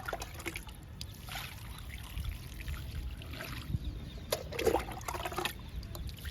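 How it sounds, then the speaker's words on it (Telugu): Water trickling and splashing steadily onto a heap of homemade garden compost, a soft continuous pour with small gurgles, close by and fairly quiet, no talk. "ఇప్పుడు ఈ కంపోస్ట్కి వాటర్ ఇద్దాము."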